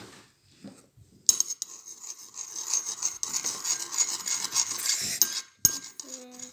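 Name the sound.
stirring shampoo slime mixture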